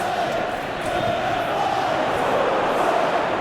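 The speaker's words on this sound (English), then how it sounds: "The crowd appreciates good football all round there." Steady roar of a large football stadium crowd at an international match, a dense continuous wash of voices cheering and murmuring at fairly loud, even level throughout.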